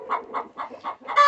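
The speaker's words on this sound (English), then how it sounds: "There's another hen that wants in there." A hen clucks close by in a quick series of five short, loud clucks, evenly paced, the last one rising into a brief higher call.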